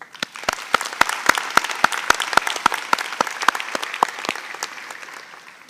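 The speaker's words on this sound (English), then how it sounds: "So please give yourselves a big round of applause." An audience at a 2022 SIT university graduation ceremony bursts into applause, with a nearby pair of hands clapping loud and evenly over a wider crowd's clapping that swells, then fades toward the end.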